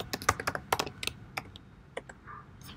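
Code is typed on a computer keyboard in quick bursts of crisp, close keystrokes that thin out into a few scattered taps, with no talking.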